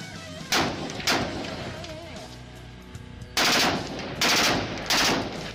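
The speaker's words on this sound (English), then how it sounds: "Recently, the firing tests of the small-sized AM-17 assault rifle have been completed, said Alan Lushnikov" Kalashnikov AM-17 compact assault rifle fires during testing: two single sharp shots, then three rapid, very loud bursts of automatic fire, close and dominating the sound.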